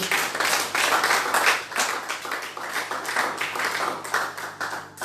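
A church congregation claps and applauds in praise, with steady, rhythmic bursts of many hands that hold at an even, fairly loud level throughout.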